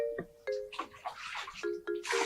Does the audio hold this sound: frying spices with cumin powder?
no